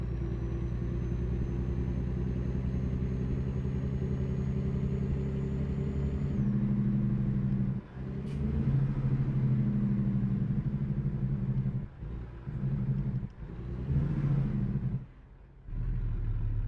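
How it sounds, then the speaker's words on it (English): A truck's engine drones steadily in American Truck Simulator, a loud continuous rumble with a whining tone, shifting in pitch partway through as another truck passes, with brief dips and surges afterward. "that truck's doing exactly to me what I did to him, which is passing me"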